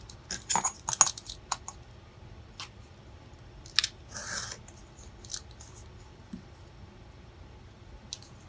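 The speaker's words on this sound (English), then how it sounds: "And I will just trim it down to the size of the paper." Scissors trim pink paper for a handmade journal craft project, giving a few short snipping and rasping cuts close by, with quiet rustling pauses between and no talking.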